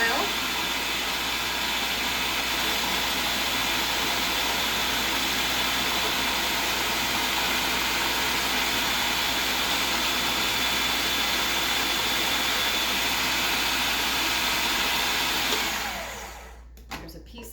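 A food processor whirs steadily as it spins basil pesto with olive oil: a continuous loud motor drone that cuts off abruptly near the end.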